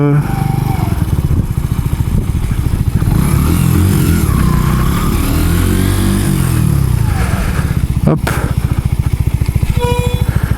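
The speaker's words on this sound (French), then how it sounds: "On va poser la moto là." A Mash 125 motorcycle engine idles and putters close by, a steady throbbing chug with a brief rev in the middle and a short clunk near the end.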